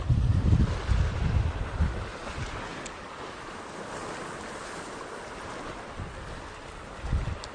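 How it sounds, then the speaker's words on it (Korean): Wind gusting across the microphone on coastal rocks during lure fishing, with heavy low rumbling bursts at the start and end and a steady hiss between, with waves in the background. "바람만 안 불면 뭐라도 좀 끄집어 낼 텐데 바람 때문에"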